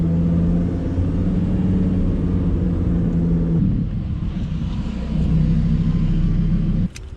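A Lamborghini Huracán Performante's 5.2-liter V10 gives a deep, steady rumble from close by, holding an even drone with a slight shift in tone partway through before cutting lower at the end.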